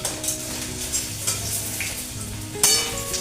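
Potatoes frying in oil for a light summer chicken curry, a dense close sizzle with stirring scrapes and a few metallic clinks of a utensil against the pan, continuous throughout.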